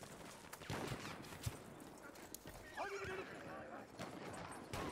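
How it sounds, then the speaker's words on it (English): A horse in the Battlefield 1 video game whinnies loudly while its hooves clip-clop steadily underneath, with brief game noise and faint background sounds around it. "So let's take the horse for a ride."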